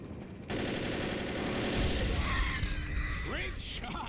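Rapid gunfire from the zombie shooter Left 4 Dead fills a busy, loud battle scene, shots crackling continuously under game noise and short voice calls.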